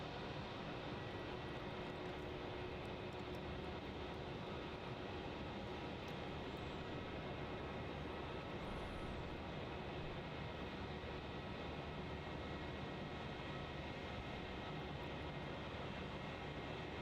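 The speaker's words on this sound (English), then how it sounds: "There's the Jetstar 320 pushing in to Terminal 4" A Jetstar Airbus A320 airliner taxis in to Terminal 4 at Melbourne Airport, its engines giving a steady, broad, continuous roar that holds at an even level throughout, with no voices over it.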